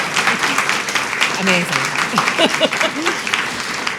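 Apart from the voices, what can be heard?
audience applause for author Casey Parks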